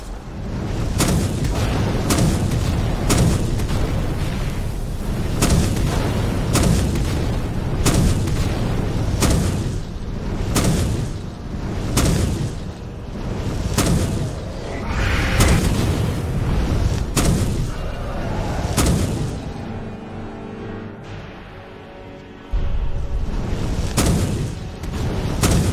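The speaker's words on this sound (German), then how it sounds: "Explosions" Explosions in the video game Skyrim Special Edition boom in a rapid, repeated series of loud blasts, roughly one every second, with rumbling between hits and a brief lull near the end.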